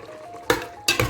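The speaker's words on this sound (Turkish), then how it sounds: "Şimdi hepsini beraber karıştırıyoruz." Meat and peppers stirred together in a pot, with two sharp metallic clinks of a utensil against the pot over a quiet background.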